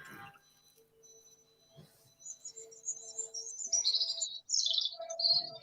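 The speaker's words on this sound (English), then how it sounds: "even though the birds sound lovely." Outdoor birdsong with chirps and tweets, growing louder and busier toward the end, with faint insect-like buzzing and no talk.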